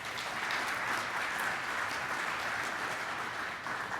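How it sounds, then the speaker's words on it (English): Steady, dense applause from an audience at the 2023 Corvette Hall of Fame members-elect announcement, filling the whole stretch at an even level with no voices over it. "One more round of applause, please."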